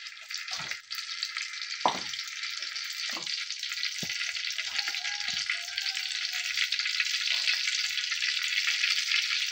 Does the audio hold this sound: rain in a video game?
no